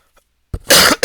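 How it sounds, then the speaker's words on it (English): A person coughs several times in quick succession, harsh close bursts with a short pause before a final cough, loud and alone with no talking. "I'm sorry about the coughing."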